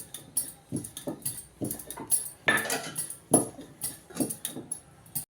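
A spoon scrapes and clinks around a cooking pot of Telangana-style broad bean (chikkudu kaya) curry in a quick, regular stirring rhythm, close and clear, with no voices.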